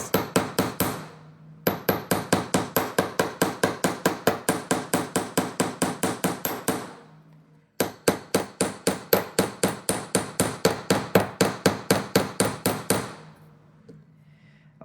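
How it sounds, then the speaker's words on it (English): Fast, regular hammer taps shaping the bends of wire-wrapped earrings, struck in two long runs of evenly spaced metallic blows with a brief pause between, close and clear with no talking. "I'm hammering all the bends."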